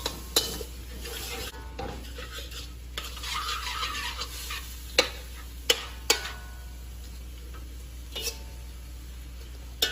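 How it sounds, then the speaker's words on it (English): Snow peas and rice sauté in a pot with a constant sizzle, while a utensil stirs and scrapes and knocks against the pot now and then at close range. "So we add all of that in. We'll saute this around for about 2 minutes,"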